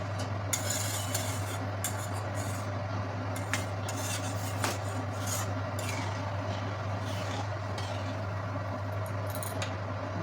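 A spoon stirs semolina cooking with milk in a pan, giving soft scraping and occasional clinks of metal over a constant low hum, close and fairly quiet.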